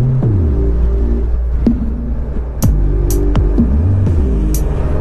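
A 2020 Honda Goldwing motorcycle downshifts on the road. Its loud, close engine drone drops and rises in pitch with each gear change, over steady rumble and a few brief knocks.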